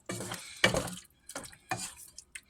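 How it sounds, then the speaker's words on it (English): Hamburger cheese dip with melted cheese and ground beef gets stirred in a pot over low heat, a spoon scraping in several short bursts separated by brief pauses, close and fairly loud, with no talking. "I just like to stir it a little so it don't, burn"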